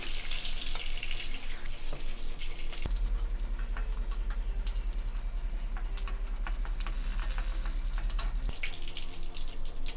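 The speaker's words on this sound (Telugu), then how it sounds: "ఆవాలు జీలకర్ర కరివేపాకు కరివేపాకు వేసి కొంచెం వేగనిచ్చి వేగిన తర్వాత" Mustard seeds, cumin and curry leaves sizzle and spatter in hot oil for a bitter gourd fry, a dense, close crackling hiss with scattered pops running steadily throughout.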